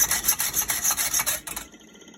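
A hand file or saw rasps back and forth through a part of a Peugeot 103 moped being prepared for racing, in rapid, rhythmic close-up strokes that stop abruptly near the end.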